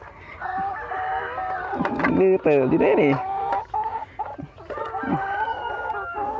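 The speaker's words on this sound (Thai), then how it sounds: "นี่ครับพี่น้อง ไก่ไข่" Laying hens clucking near and loud, with a rooster-like crow mid-way, while someone talks over the birds.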